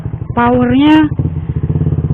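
A Suzuki GSX-R150 motorcycle fitted with an R9 Misano racing exhaust idles with a throbbing, pulsing beat close by, while someone speaks loudly over it.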